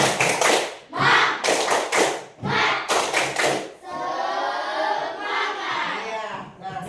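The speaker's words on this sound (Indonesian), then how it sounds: "Sebelum ibu lanjutkan, tepuk semangat dulu nak." Schoolchildren in a classroom do a rhythmic spirit clap: loud, tight groups of claps with brief gaps, ending in a sustained, noisy group shout.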